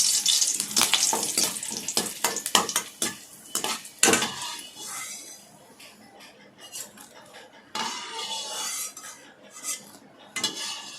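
Clinking utensils and pan clatter over a steady frying sizzle of curry leaves in sesame oil, with sharp metallic taps early on and a softer hiss continuing afterward.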